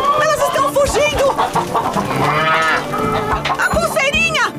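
Chickens from a cartoon rescue scene cluck and squawk busily as they escape an open gate, mixed with dense music and effects throughout.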